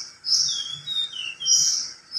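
An oriental magpie-robin (kacer) sings close by, a few bright, clear whistled chirps and trills in quick bursts with short gaps, heard alone without talk.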